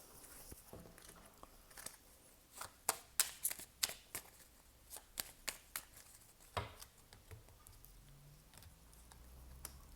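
A deck of tarot affirmation cards being shuffled up close, with a run of quick crisp riffles and snaps in the middle and softer handling before and after, no talking.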